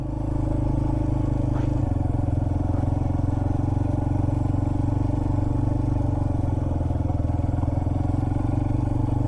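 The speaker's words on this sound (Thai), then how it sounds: "ตกใจเสียงเครื่องยนต์ เลยบินหนี" A motorcycle engine idles steadily nearby, a constant low rumble with faint rattling and no talking.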